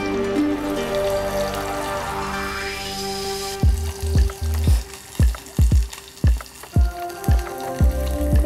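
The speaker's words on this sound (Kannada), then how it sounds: "ಗೋಲ್ಡನ್ ಬ್ರೌನ್ ಆಗೋವರೆಗೂ ಹುರ್ಕೊಳ್ಳಬೇಕು" Onions and curry leaves sizzle steadily in hot oil in a pan, then the frying turns into a series of loud, near scrapes and knocks as the mixture is stirred at a slow, uneven rhythm.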